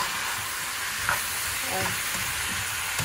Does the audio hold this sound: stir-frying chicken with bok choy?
yes